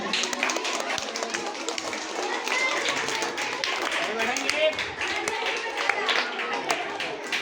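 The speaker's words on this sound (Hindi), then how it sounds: "एक बार ताली हो जाए।" An audience claps at a school science project exhibition. The clapping is scattered and fairly quiet, mixed with crowd noise and people talking.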